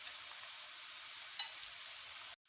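Chicken boti kebabs fry in a pan with a steady, even sizzle throughout, marked by one sharp crackle midway before the sound cuts off abruptly near the end.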